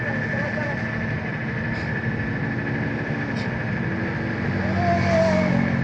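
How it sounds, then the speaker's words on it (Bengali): Motorcycles descending a steep dirt road from Keokradong toward Sungsang Para, a continuous engine drone with revs rising near the end, heard under people talking. "এই যে মোটর সাইকেল নিয়ে আয় পড়ছে সবাই।"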